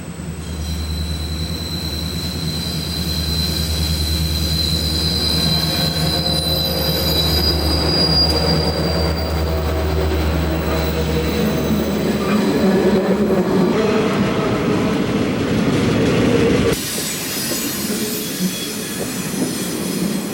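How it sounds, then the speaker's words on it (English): A loaded northbound freight led by Conrail SD40-2 locomotive 6438 rumbles past near Gate on the Monongahela Railway, its low diesel drone giving way to loud, sustained wheel squeal and rail clatter before cutting off abruptly. "An SD 40-2 Conrail 6438 leads a northbound loaded train at milepost T4,"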